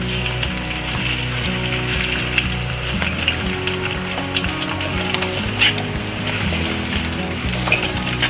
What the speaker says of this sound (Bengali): আমি তেল দিয়ে নিচ্ছি, তারপরে আদা দিয়ে নিলাম